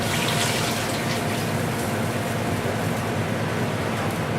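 Water pours steadily into a soup pot for a crab noodle broth, a continuous loud rushing splash with no pauses and no talking.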